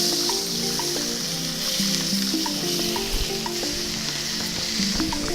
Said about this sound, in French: Alors ici, je vais retourner notre steak.